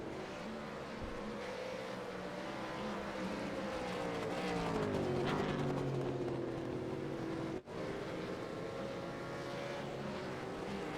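Race cars lapping the Barcelona-Catalunya circuit at night in the iRacing simulator during a Super2 Series round, a continuous engine drone rising and falling in pitch as the cars accelerate and shift.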